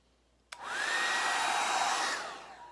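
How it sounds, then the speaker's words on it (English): Hair dryer switched on abruptly and blowing steadily for about two seconds, then powering down, used to push acrylic paint across a Dutch pour canvas; close and alone. "let's use the hair dryer"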